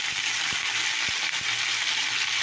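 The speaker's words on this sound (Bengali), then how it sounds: "তারপরে টমেটো আলু দিয়ে নাড়াচাড়া করছি" Tomato and potato pieces fry in hot oil seasoned with panch phoron, giving a steady, close hiss, with a few soft knocks of the spoon as the pan is stirred.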